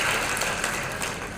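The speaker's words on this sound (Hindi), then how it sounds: "तो फिर तो जोरदार तालियां नारायण जी के लिए भी होनी चाहिए" Dense, steady applause from an audience at a BJP workers' conference in Biaora, a continuous wash of many hands clapping without pause.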